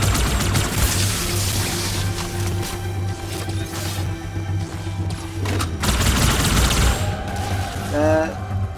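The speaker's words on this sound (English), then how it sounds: "Plasma rifle" Plasma rifle fire in Halo 2 rattles in rapid repeated bursts amid explosions and crashing combat noise, with voices talking over the fighting throughout.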